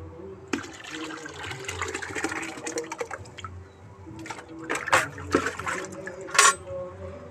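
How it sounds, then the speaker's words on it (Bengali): Liquid cow dung fertilizer being stirred into about ten litres of water, giving soft sloshing and pouring with scattered splashes and clinks from the container, close and fairly quiet. "এই লিকুইডটাকে আমি 10 লিটার জলে গুলবো।"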